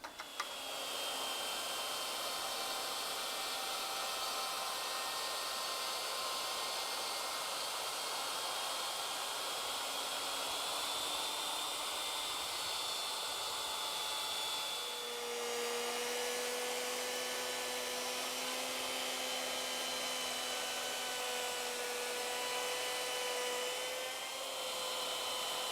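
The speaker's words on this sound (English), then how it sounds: "Now we'll simply change the router bit and make the next cut." A router fitted with a router bit cuts ornamental moulding, a loud, steady high-pitched whine holding constant for the whole stretch with a slight shift in tone midway, no voices.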